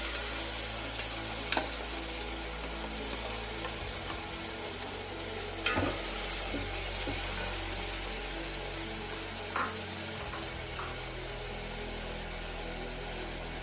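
Onions frying in peanut oil in a pan. A steady, close sizzle runs throughout, with a few brief stirring clinks and no talking.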